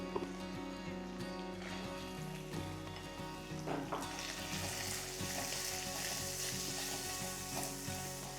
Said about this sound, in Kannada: ಈರುಳ್ಳಿ, ಗುಂಟೂರು ಮೆಣಸಿನ್ಕಾಯಿ, ಚಿಕ್ಕಬಳ್ಳಾಪುರ ಮೆಣಸಿನ್ಕಾಯಿ, ಹಸೆ ಮೆಣಸಿನ್ಕಾಯಿ ಎಲ್ಲವನ್ನು ಹಾಕಿ ಚೆನ್ನಾಗಿ ಪರಿಪೂರ್ಣತೆಯಿಂದ ಹುರ್ಕೊಳ್ಳೋದು.